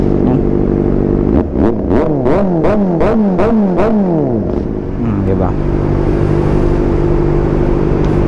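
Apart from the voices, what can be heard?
motorcycle with aftermarket exhaust idling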